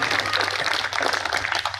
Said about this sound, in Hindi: घनघोर तालियां बजनी चाहिए उनके लिए